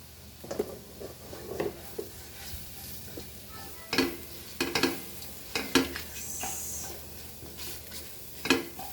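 Goan sausages sizzle in a pot while a spoon stirs and scrapes through them, with a steady low frying hiss under repeated knocks and scrapes, close and fairly quiet, without voices.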